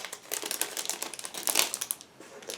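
Crisp crinkling and rustling of a small plastic bag holding model kit parts being handled and pulled open, in quick irregular bursts close to the microphone.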